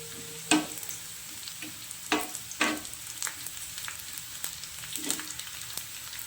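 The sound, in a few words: onions frying and being stirred in a pan for sambar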